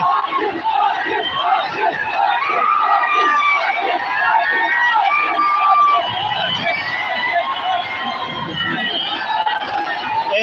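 A huge rally crowd for Manoj Jarange Patil in Nanded roars continuously with shouting and chanting voices blending into a dense, loud wall of cheering that never lets up.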